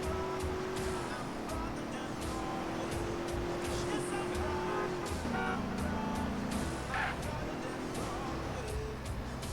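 Car engine hum and tire noise from driving in GTA San Andreas, a steady mid-level drone with shifting engine tones throughout, alongside a faint voice.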